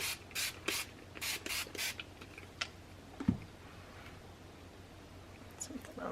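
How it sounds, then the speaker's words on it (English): A handheld spray bottle squirts water in a burst of quick, sharp hisses, about six close spritzes in a row, followed by quieter handling noises and a soft thump. "What do I do with my spray bottle? Just to spray them with the water."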